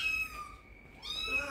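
A young foster kitten meows twice in quick succession, close and fairly clear, each a bright drawn-out cry with a short gap between.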